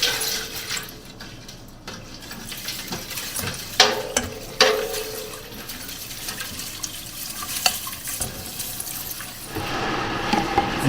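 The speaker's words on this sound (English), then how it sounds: "And you can hear that actually boil at the bottom." Caustic lye flakes stirred into liquid for soapmaking, with a continuous bubbling, sizzling boil at the bottom of the container and occasional scraping clinks of the stirrer.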